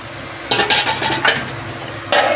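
A metal lid set onto a cooking pot of simmering vegetable curry, a few close clattering clanks of metal on metal, then a final clank.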